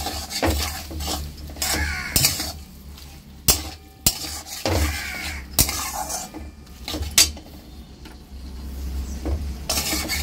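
Half-boiled fried potatoes tipped into a spiced pan and stirred, with a scrape and clatter of a metal spoon against the pan and a low sizzle running underneath, with several sharper knocks along the way.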